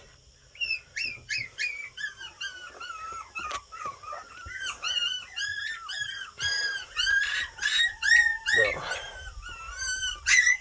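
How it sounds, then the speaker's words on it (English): Puppies whimper and squeal in a rapid run of high, wavering cries, close and fairly loud, some overlapping, with one short word spoken near the start. "Puppies!"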